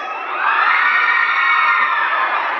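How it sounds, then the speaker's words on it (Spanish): A crowd cheers and shouts together in a sustained, loud roar of high voices that swells quickly and holds steady, with no clear clapping standing out beneath it. "Fuerte el aplauso"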